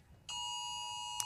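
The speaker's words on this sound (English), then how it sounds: "That is the alarm, which won't go on for particularly long." An electronic alarm at a cricket ground sounds as a sudden steady high-pitched tone, sustained and unbroken after a quiet start, with a brief sharp click near the end.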